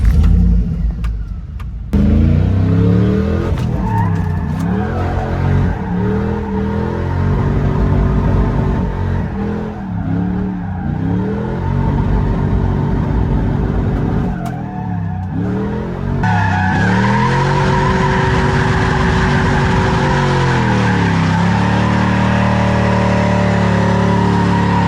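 A GMC Denali drift truck fitted with a hydraulic hand brake shreds its tires on dry pavement, the engine revving hard and wavering under long, continuous tire squeal for the whole stretch, loud and close.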